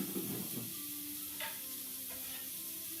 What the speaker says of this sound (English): saute pan's heating up. We're gonna drop our red onions in.